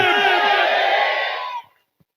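A large crowd roars a loud, unified chant of "Jai Bhim" for about a second and a half, then cuts off into silence.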